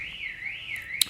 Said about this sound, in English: by this awful car alarm